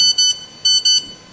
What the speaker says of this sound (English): this text message actually came through onto my phone.